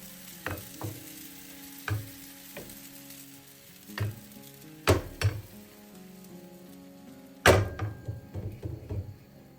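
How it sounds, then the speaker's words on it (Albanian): Batter for Albanian petulla crepes cooking in a buttered pan gives a steady soft sizzle, broken by several sharp knocks and clatters of utensils against the pan. "Do t'i pjekim në temperaturë mesatare, duke i kthyer nga njëra anë në tjetrën derisa të marrin ngjyrë."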